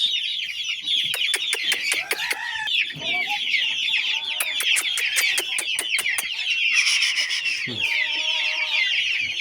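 Fighting roosters cluck and crow close by in a busy, overlapping chorus of sharp calls and longer crows that continues without pause.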